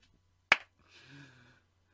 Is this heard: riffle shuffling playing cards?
no